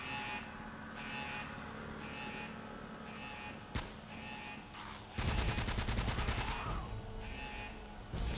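Gunfire in Uncharted: Drake's Fortune: a single sharp shot, then a dense burst of rapid automatic fire lasting over a second, over steady game ambience with a repeating whirring background.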